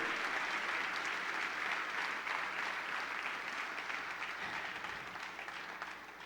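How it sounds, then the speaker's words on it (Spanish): A church congregation applauds during a sermon, with steady, fairly distant clapping from many hands that fades slightly toward the end. "Vamos a darle un aplauso a Él."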